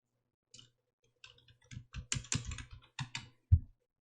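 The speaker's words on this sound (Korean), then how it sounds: "내용 타이핑 하십니다" Keys on a computer keyboard being typed in short irregular bursts of clicks, close and fairly loud, ending with one heavier keystroke like an Enter press; no voices.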